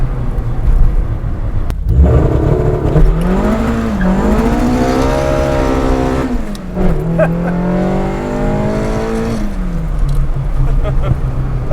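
A Toyota AE86 with a fully worked 4AGE engine launches hard with wheelspin, the engine revving up loudly and climbing in pitch with tire squeal, dipping briefly before rising again, close and dominant.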